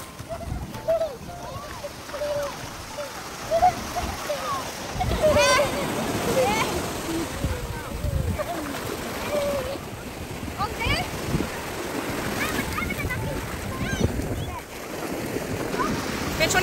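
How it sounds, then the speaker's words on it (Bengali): Atlantic Ocean waves wash and splash close by in a steady broadband surge, with several louder splashes, while people talk over the water throughout. "পেছনে আটলান্টিক সমুদ্র"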